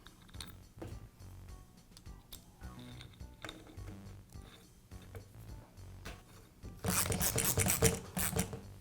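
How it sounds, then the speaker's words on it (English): Cap screws are driven in by hand on a DeWALT finish nailer, with soft, close ticking and small metallic clicks at first, then a louder burst of fast ratcheting near the end, with no talking. "I align the cap and secure it with the screws"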